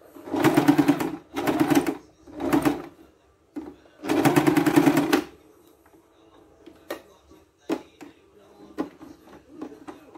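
A sewing machine stitches a 3D cloth mask in four loud, sustained whirring bursts separated by pauses, followed by quieter fabric handling and light clicks.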